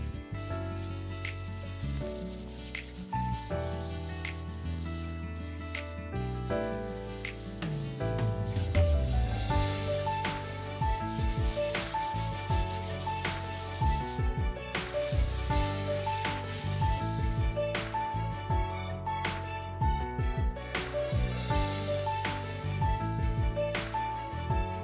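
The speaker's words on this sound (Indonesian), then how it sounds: "setelah kering kita amplas nomor 250" Number 250 sandpaper is rubbed by hand over stained wood during finishing, a steady close scratchy rasp with continuous back-and-forth strokes and no talk.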